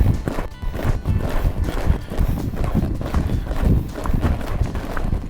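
Hooves of a ridden horse beat a quick, rhythmic clip-clop in a derby arena, fairly close and continuous, with faint background noise.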